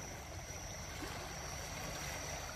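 Floodwater of the swollen Caçatuba river in Passira, Pernambuco, rushing along in a steady, dense roar that stays even and unbroken throughout, with no voices over it.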